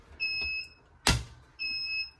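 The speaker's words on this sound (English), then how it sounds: "that's just the fire alarm here that's beeping away." Building fire alarm beeping, two sustained high electronic tones separated by a sharp clack, close and fairly loud, with no talk.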